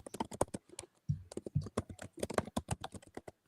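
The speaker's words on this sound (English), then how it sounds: "I'm typing in a new rule now" Rapid, forceful typing on a computer keyboard, dense clattering keystrokes in an uneven rhythm, close and fairly loud with no talking over it.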